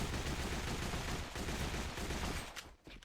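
Glock pistol in the shooter game AVA fires in rapid bursts, sharp cracks crowding together in quick succession before stopping, close and loud with no speech.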